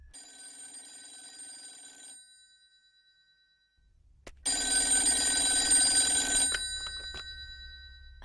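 A telephone bell rings in a film scene, a burst of ringing at moderate level, a pause of near silence, then a louder, longer ring that cuts off.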